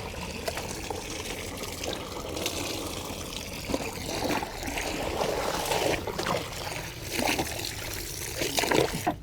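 Water sloshing and trickling during hand-rinsing of laundry cloths, close and continuous with splashes and drips, no talk.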